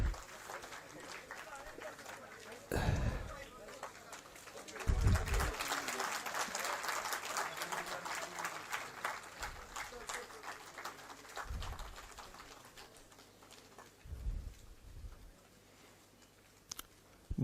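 Applause from an audience at a book launch honouring Sharad Pawar, moderate clapping swelling and thinning over many seconds, with brief voices and thumps at the edges.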